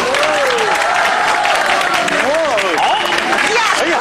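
A studio audience at a Tianjin TV talk show applauds to welcome guests, a steady dense wash of clapping lasting several seconds with voices and tonal sounds running through it.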